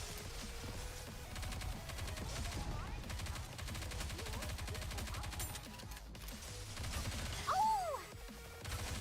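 Gunfire in the video game Nikke: rapid, dense bursts of shots layered over constant game music and effects, with a brief shrill tone and a louder crash near the end.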